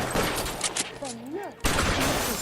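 Gunshots from a shootout in the video game L.A. Noire, including shotgun fire, with sharp loud blasts at the start and again past the midpoint, while a person talks over a short quieter gap.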